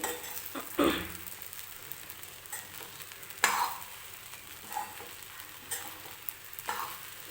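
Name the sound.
stirring sabudana khichdi in a hot pan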